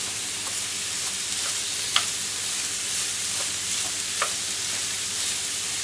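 Sugar beet and kombu stir-fry in a pan with a continuous bright sizzling hiss, with occasional soft clicks of a utensil moving them about.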